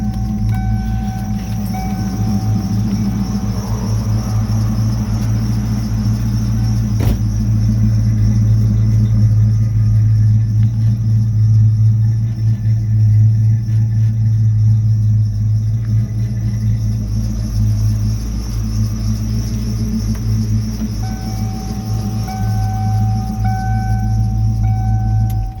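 A 1995 Ford Mustang GT V8 engine idles with a deep steady rumble, while a thin whining tone from a squealing belt comes and goes above it, recorded close with no one speaking.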